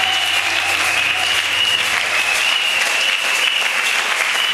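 A church congregation applauds and cheers in praise of Jesus, producing a loud, continuous wash of clapping from a large crowd that holds steady throughout.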